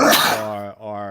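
A single sharp human sneeze bursts out at the start and is immediately followed by a drawn-out voiced sound from the same person.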